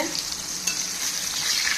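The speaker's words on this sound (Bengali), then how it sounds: "এইদিকে বেগুন ভাজা হচ্ছে" Eggplant slices frying in a pan, a soft continuous sizzle heard close and fairly quiet with no talking.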